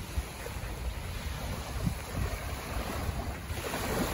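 Ocean surf on a beach in Madagascar, a steady low rushing wash of waves mixed with heavy wind buffeting the microphone, with no talk.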